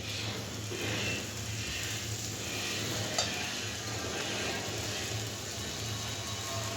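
Winter vegetables with ginger-garlic paste stirred in a pan for vegetable khichuri, a steady soft sizzle with scraping of the spoon running continuously and fairly close, no voice over it.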